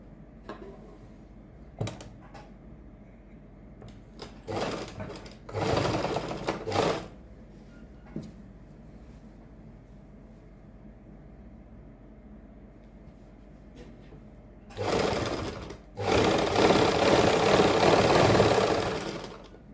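A sewing machine stitching a kurti runs in short bursts, a few brief clicks and quick whirring runs early on, then longer, louder stitching runs near the end, with quiet pauses between.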